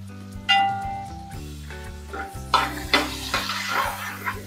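Chicken sizzles in a pan for Karnataka-style donne biryani, with spoon scrapes and metallic clinks as it is stirred, over steady background music.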